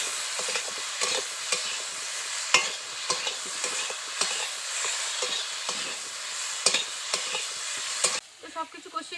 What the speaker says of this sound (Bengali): এগুলোকে একটু ভালো করে কষিয়ে নেব।